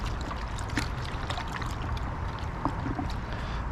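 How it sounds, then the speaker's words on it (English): Towels soak in a bucket of rinseless car wash solution, giving a steady close sloshing and trickling of water with small splashes throughout. "I'm going to soak a couple towels in here"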